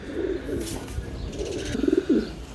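Racing pigeons coo softly nearby in a few short rolling phrases, with faint background chatter and rustling.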